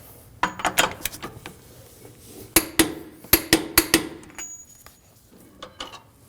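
A hammer peens the axle nut on a Honda Pilot's rear CV axle, sharp metallic strikes in small clusters, loud and close with ringing clinks, spaced by brief pauses.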